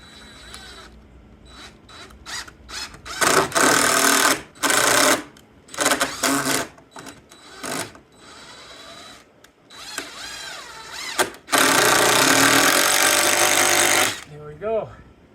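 A power driver sinking 3.5-inch number 10 common screws into floor joists, several loud whirring bursts of a few seconds each separated by pauses, with someone talking between them.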